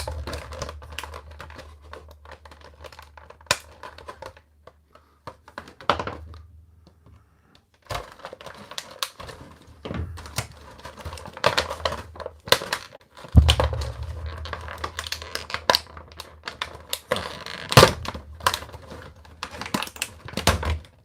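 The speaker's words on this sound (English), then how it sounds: "looks like I need my scissors. My trusty shears. Let's go ahead and cut them out of here." Scissors cut open plastic toy packaging: crinkling plastic and sharp snipping sounds come in irregular bursts, with pauses between handling noises.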